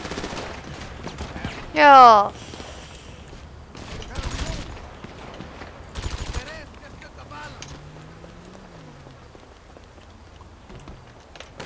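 Scattered gunshots in Grand Theft Auto Online, a few sharp bursts spread across the clip over a steady background hiss, with a brief voice heard once.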